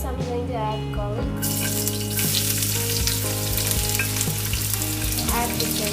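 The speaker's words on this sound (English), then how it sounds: "First I'm going to add garlic" Garlic sizzles steadily in a hot pan for garlic fried noodles, a dense continuous frying hiss with occasional stirring clinks and a strong low hum underneath, close and loud throughout.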